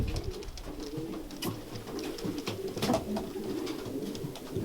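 Released pigeons cooing together: a steady chorus of soft, rolling coos from several birds nearby, with faint flutters and outdoor background noise throughout.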